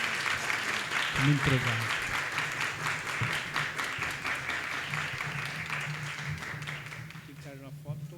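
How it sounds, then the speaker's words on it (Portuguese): Audience applause for a professor after an architecture and urbanism lecture, a sustained patter of clapping across the room with a few voices talking over it. "vamos dar uma salva de palmas para a professora"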